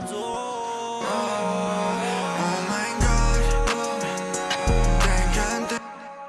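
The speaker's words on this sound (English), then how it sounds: "I will play the transition between the verse and the hook." A trap song plays as the verse moves into the hook: layered melodic instruments carry on steadily, then deep, booming 808 bass hits land in two heavy bursts when the hook arrives. No talking.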